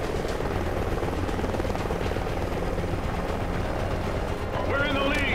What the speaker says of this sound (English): Friendly Helo pilot active.